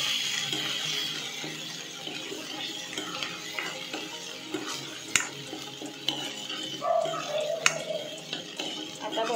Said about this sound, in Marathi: चांगलं ना आपण हे असं तेलामध्ये फ्राय करून घेऊया.